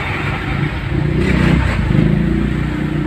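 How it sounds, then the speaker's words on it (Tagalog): Vehicle reversing with its engine running loud and close, a rough, steady motor drone with slight rises in intensity and faint clattering throughout. "Ina-atras lang po namin yung sasakyan."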